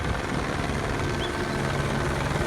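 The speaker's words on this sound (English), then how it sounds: "Helicopters." Helicopters flying overhead in Los Angeles, a loud continuous rotor roar with low rhythmic thumping that holds steady throughout.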